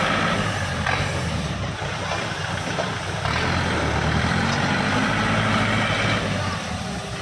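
Kubota 47 hp tractor, a 2013 model, with its diesel engine running steadily at close range, a continuous low throbbing drone that holds level throughout with no pauses.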